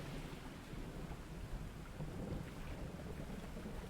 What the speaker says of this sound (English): I love the sound of rain against the roof of my cabin